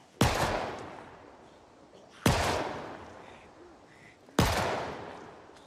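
Three loud, sharp gunshots spaced about two seconds apart, each with a long echoing decay, fired at zombies in Project Zomboid build 42 on brutal difficulty, with no talk over them.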